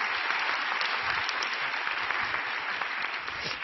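Big round of church applause welcoming a pastor to the pulpit at an evening worship service, dense steady clapping from a large congregation filling the room at an even level throughout.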